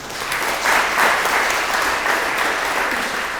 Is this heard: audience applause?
yes